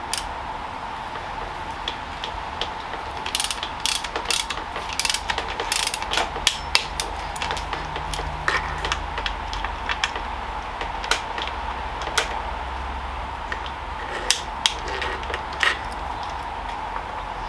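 Ratcheting clicks from tightening Allen bolts on a Carrera Hellcat mountain bike, a steady run of short, sharp pawl ticks in bursts, close up with no talking.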